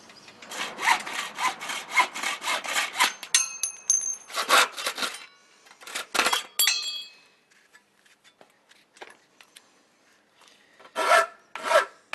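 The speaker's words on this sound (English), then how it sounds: "We're now ready to trim the top and bottom tracks to your required widths." Aluminium top and bottom tracks of an expandable security gate being cut to width with a saw: a run of steady rasping strokes, then shorter separate bursts of sawing with pauses between them.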